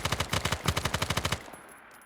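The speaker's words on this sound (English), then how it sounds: "Really good rate of fire with the RPD." An RPD light machine gun fires a rapid sustained burst in a Vietnam-era video game, about twenty evenly spaced loud close shots over a second and a half, then cutting off to a quiet tail.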